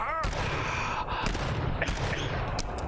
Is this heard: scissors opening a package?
no